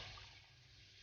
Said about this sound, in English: Just going to add a cup of water.